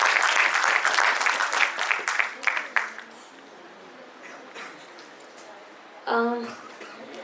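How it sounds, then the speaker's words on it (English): An audience at an induction ceremony gives a burst of loud, dense applause that tapers off into quiet room tone, and a brief voice is heard near the end. "A big round of applause for him."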